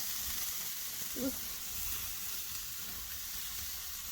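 Rabbit legs and pieces sizzle in a pan with a steady, moderate hiss, with one brief clink partway through and a faint voice murmuring in the background.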